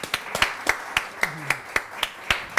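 Slow, evenly spaced claps, roughly ten sharp strikes, sound from a small group in a studio audience on a morning talk show, fairly close, with a brief voice in the background.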